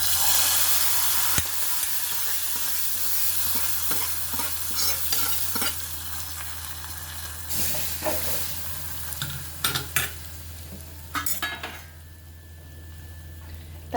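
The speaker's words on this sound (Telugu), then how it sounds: "తాలింపు వేసేస్తున్నాను." A garlic, curry leaf and asafoetida tempering sizzles continuously in hot oil, with scattered pops, spoon clinks and stirring scrapes, easing toward a softer hiss at the end.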